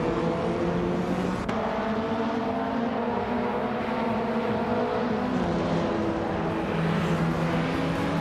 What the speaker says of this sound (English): The Sonoma track's tight corners and elevation changes are favoring the quick drivers like Working Muriki and Maya